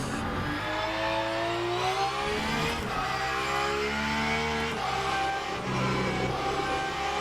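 A Porsche race car engine in Le Mans Ultimate, loud and close, revving up and down through gear changes with sweeping harmonic whines and brief throttle lifts, no talking.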